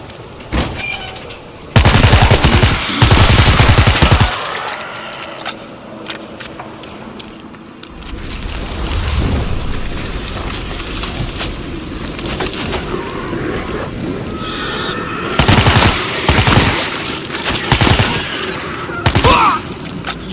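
Gunfire crackles through the World War Z Aftermath video game, loud rapid volleys in bursts with pauses between, layered over dense in-game noise and shouting voices.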